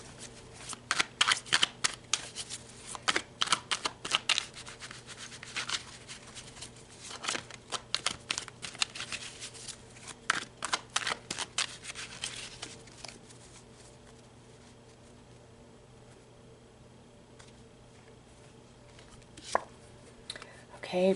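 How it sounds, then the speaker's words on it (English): Starseed oracle cards are shuffled by hand at close range, a busy run of sharp riffles and taps that thins out midway into near quiet before a few final slaps. "let's pull some starseed cards."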